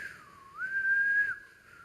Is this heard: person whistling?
yes